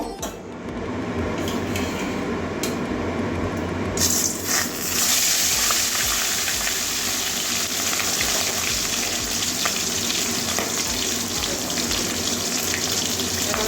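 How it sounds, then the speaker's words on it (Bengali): Loud, steady sizzling of a katla fish head frying in hot mustard oil fills the whole stretch, with a few clinks of a pan near the start. "তেল গরম হয়ে গেছে এবার মাছের মাথাটা ভাজা করে নেব"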